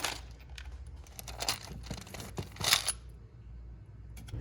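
Small metal screws for a Ford F-150 cupholder fix clink and rattle in short, irregular bursts as someone rummages through them, with faint crinkling between the louder clatters.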